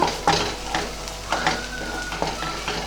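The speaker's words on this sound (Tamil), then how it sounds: "இஞ்சி பூண்டு பேஸ்ட்டோட பச்சை வாசனை போகிற வரைக்கும் நல்லா வதக்கிக்கோங்க." Ginger garlic paste and onions being sautéed in a pan for a paneer gravy, a steady close sizzle broken by several sharp scraping stirs of the spatula, with no talking.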